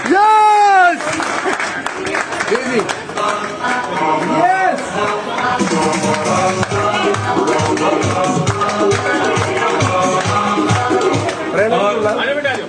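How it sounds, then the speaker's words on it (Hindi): A crowd claps steadily in a hall as a family is welcomed onto the stage at a business gathering, the broad applause running for the whole stretch beneath a loud amplified voice talking over it. "जोरदार तालियों के साथ"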